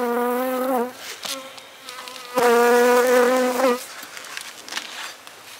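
A honeybee cluster inside a beehive, heard close and loud while sugar bricks are set over it. The droning buzz swells in bursts, fades back and returns, with no talking.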